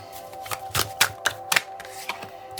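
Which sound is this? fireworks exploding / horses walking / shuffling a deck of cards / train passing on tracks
shuffling a deck of cards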